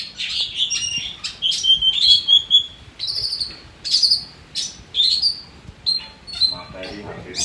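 Long-tailed shrike (cendet) singing, a series of high, sharp chirps and whistled phrases in short bursts, fairly close, over a faint outdoor background with insects.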